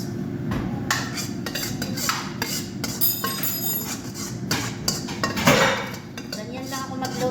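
Chinese-style rice with vegetables and shrimp is tossed and mixed in a pan with a spatula, making continuous close metallic scraping, clinks and knocks against the pan over a low background hum.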